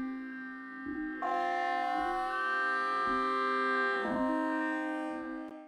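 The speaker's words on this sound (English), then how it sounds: "Stretched out, the audio sounds like this." Song intro audio time-stretched to a very slow tempo in Ableton Live becomes a quiet, smeared ambient texture: sustained layered tones that shimmer and slowly shift, with soft low swells recurring every second or so.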